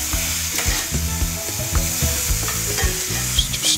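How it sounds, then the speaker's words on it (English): Potatoes fry over high heat in a pan seasoned with black pepper and crushed red pepper flakes, a steady close sizzle broken by repeated scraping stirs every fraction of a second. "Just stirring. Got a good heat working."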